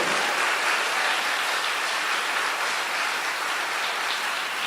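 A church congregation applauding during a sermon, dense continuous clapping that sounds like a steady wash, loud and even for about five seconds with no voices over it.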